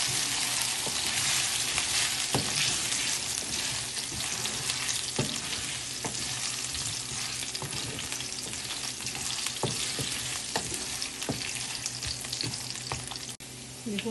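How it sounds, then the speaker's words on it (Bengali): Potato pieces fry in hot mustard oil in a pan, a dense continuous sizzle with occasional stirring scrapes and crackles, close and loud with no talk. "এবার আমি এখানে আলুগুলো ভেজে নেব।"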